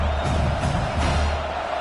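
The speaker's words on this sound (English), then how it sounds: "And how nice is it to have the home crowd going absolutely bananas?" A home stadium crowd roars steadily in the College Football 26 video game, a dense, continuous wash of cheering with no break, loud and close throughout.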